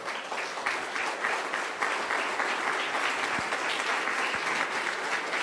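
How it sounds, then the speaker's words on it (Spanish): A church congregation claps steadily and loudly for several seconds, a dense sustained applause with no voices rising above it. "Dale un fuerte aplauso al Señor, por favor."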